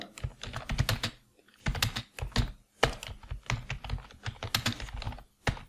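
Typing on a computer keyboard, irregular bursts of crisp close key clicks with brief pauses between runs of keystrokes.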